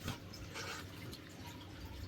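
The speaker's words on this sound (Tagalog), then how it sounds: "nilalagyan ng tubig para malambot" Water trickles and splashes steadily onto dried pet food in a bowl, a close, continuous wet sound with no talking.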